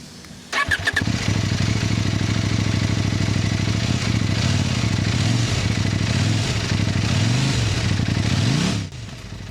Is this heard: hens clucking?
no